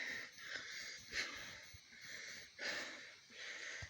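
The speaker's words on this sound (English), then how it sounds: "Ignore my breathing." Heavy, wheezy breathing on a nature hike, with rhythmic puffing breaths rising and falling close to the microphone against faint outdoor noise.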